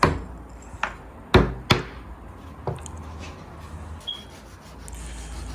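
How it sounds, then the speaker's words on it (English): A hammer knocks pieces into scrap wood in a few sharp, separate taps, two strong strikes close together near the middle and lighter knocks around them, with quiet scraping between and no voices. "you could just use any old hammer to do this"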